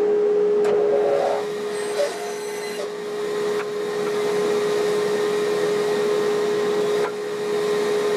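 A woodshop dust collector runs as a steady, loud, even drone throughout, with a strong constant hum and a few faint knocks and clicks on top.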